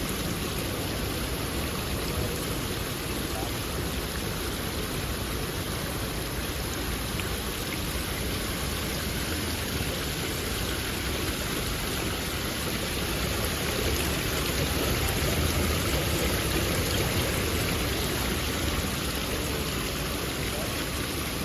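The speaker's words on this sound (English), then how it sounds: "we have another water fountain here" A water fountain in a Midtown Manhattan park splashes continuously with a dense, steady hiss of falling water, close and even throughout, with no speech over it.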